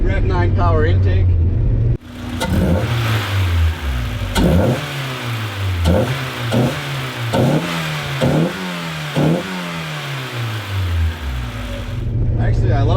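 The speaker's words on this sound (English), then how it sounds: "Actually, I love the way this intake sounds with the stock exhaust." A Mazda MX-5 Miata with a Rev 9 power intake and stock exhaust revs repeatedly in a rhythmic series of sharp rises and falls, loud and close, with speech heard before and after the revving.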